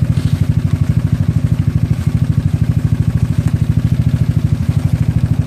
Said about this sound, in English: it'll be a full 30 minutes since we have the engine cranked on